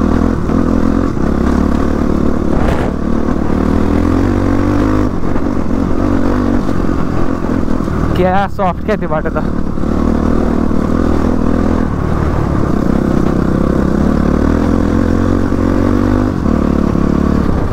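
Off-road motorcycles ride over rough terrain, their engines droning steadily up close with clattering and scraping from the bikes over the track, while a voice speaks briefly partway through.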